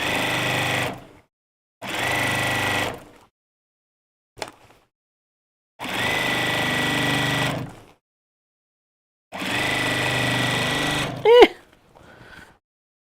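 A sewing machine stitches around a corner in short bursts separated by silent pauses, with a faint click between runs and a brief clatter and rustle near the end.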